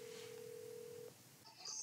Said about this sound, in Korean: 그냥 장난 전화잖아 장난 전화